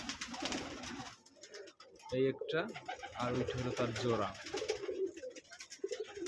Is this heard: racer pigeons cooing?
yes